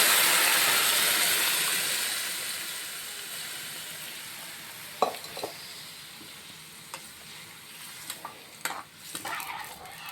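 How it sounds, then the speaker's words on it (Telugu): Cooked dal tipped into a hot onion tempering for tomato dal; a loud sizzle and hiss that fades over several seconds, followed by scattered stirring clanks from the pot. "ఇప్పుడు మనం పప్పుని తాలింపులో వేసుకుందాం"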